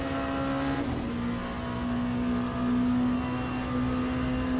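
Race car engine in Le Mans Ultimate holding a steady high drone with a strong constant tone, slight swells in revs, close and continuous with no talk.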